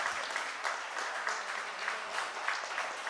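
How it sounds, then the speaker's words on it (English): Applause from a crowd, a steady patter of many hands clapping at moderate volume, swelling slightly in waves. "Women in the room, can I have a round of applause?"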